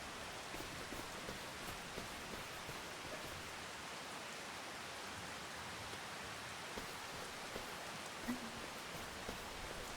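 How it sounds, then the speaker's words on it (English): Rain falls in the video game Farming Simulator 25, a soft steady hiss of drizzle that holds evenly throughout with no other clear sounds. "considering it's raining"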